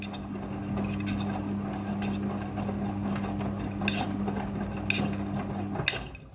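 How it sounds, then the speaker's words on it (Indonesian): A front-loading washing machine running an automatic wash cycle gives a steady motor hum with churning, sloshing noise and occasional soft knocks for several seconds, then the hum suddenly stops. "Mesin cuci front loading sudah full automatic dalam mencuci."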